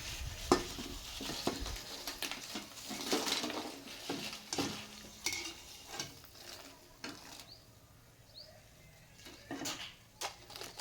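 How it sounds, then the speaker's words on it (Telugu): Tomato vadiyalu, sun-dried tomato fritters, fry in oil with a soft continuous sizzle, punctuated by metallic scrapes and taps of a utensil stirring and lifting them from the pan. "ఇదిగోండి టమాటా వడియాలు ఫ్రై చేశాను."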